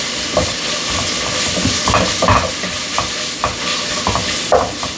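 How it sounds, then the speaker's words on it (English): Bacon fries and renders its fat in a pan, giving a loud, close, crackling sizzle with irregular pops and stirring clatter throughout, no voices. "We're going to allow this bacon to render down some good fat."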